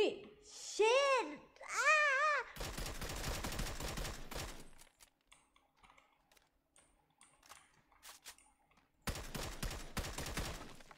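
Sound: gunfire in a video game

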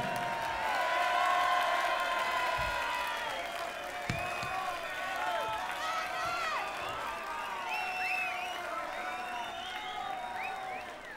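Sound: concert audience applause

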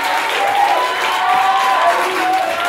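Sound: congregation clapping

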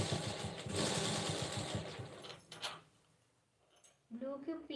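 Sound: sewing machine stitching piping on a blouse

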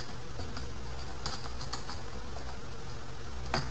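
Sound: typing on a computer keyboard

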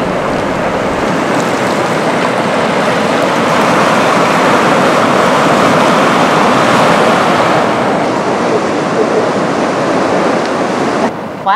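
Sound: ocean waves at Fort Bragg, Northern California

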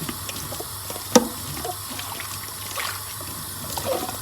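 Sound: washing dishes under running tap water

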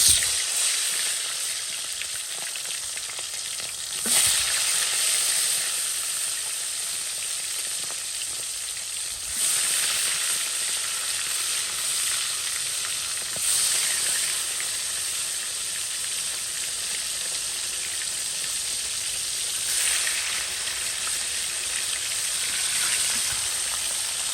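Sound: frying spice-coated pieces in oil in a wok

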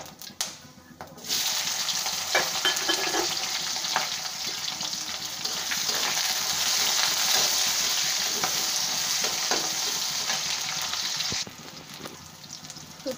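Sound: onions frying and being stirred in a pan

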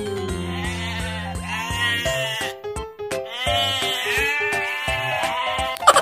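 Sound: goat bleating from a toy goat

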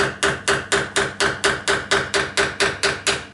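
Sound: tapping pinion seal into place with a seal driver

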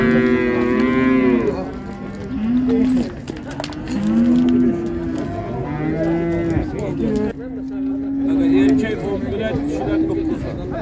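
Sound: calves mooing at a livestock market

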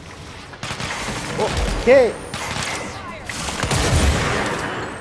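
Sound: gunfire in the video game Control

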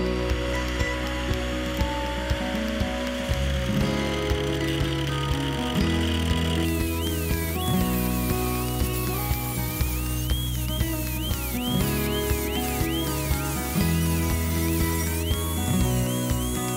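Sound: angle grinder with thin stainless steel disc cutting a lock opening

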